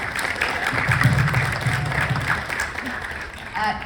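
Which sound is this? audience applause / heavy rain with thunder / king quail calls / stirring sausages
audience applause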